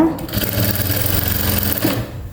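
Sewing machine stitching a blouse, a fast, even mechanical rattle of the needle running continuously for about two seconds before easing off.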